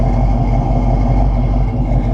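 Steady, close engine drone from a 1969 Buick Special Deluxe idling with the hood open, a continuous even rumble with a slight pulsing rhythm and no talk.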